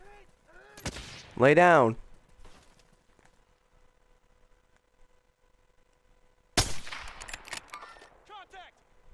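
Video game gunfire comes as two sharp bursts, one at the start and one later, amid close voiced chatter during a firefight, with a quiet stretch between them.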